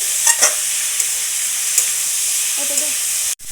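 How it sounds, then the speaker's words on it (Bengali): Chicken mince frying with onions in a pan, a loud steady sizzle broken by a few soft scraping stirs of a utensil, ending in a sharp clack near the finish. "এই যে ভালো করে নাড়াচাড়া করছে"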